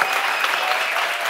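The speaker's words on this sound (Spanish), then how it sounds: "un aplauso para la yaya Mari Carmen, ya por favor." A studio audience applauds an older woman at a casual talk-show gathering: dense, steady clapping up close that holds evenly throughout, with no voices over it.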